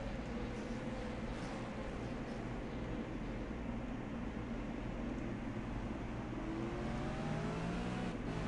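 V8 Supercars race cars at Sonoma Raceway in 2014, a pack of engines roaring and revving steadily at close range, with pitch sweeps as the cars accelerate through the pack.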